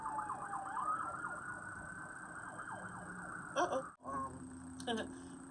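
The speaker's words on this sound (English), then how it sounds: "The ambulance was out there." An ambulance siren wails in fast warbling sweeps, steady and fairly distant for a few seconds, then gives way to brief bursts of other street noise.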